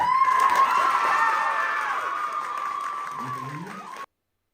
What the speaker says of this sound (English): And it's met with cheers from people in the crowd.